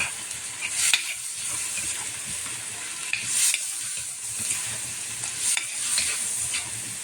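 Food stirred in a frying pan with oyster sauce, steady bright sizzle under periodic scraping stirs that flare every couple of seconds, close and without talk.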